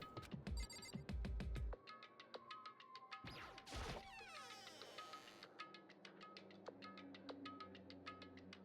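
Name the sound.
doorbell ringing, from a video game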